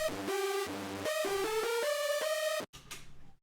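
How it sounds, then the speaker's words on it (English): Bright synth lead tones stacked in layers play a short stepping melody, notes gliding between pitches, then a brief choppy burst closes the phrase. "It sounds like a top lead with some hypersols behind it"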